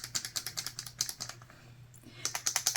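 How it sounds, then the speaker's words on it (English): A Maybelline Super Stay Vinyl Ink liquid lipstick tube is shaken close up, its internal mixing ball producing quick, regular, bright rattling clicks in two bursts separated by a short pause. "you have to shake these. They have a thing inside them, if you can hear that."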